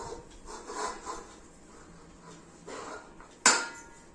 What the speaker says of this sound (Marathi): ते मिक्स करून घेत आहेत.